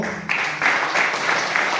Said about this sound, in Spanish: pido para él un fuerte aplauso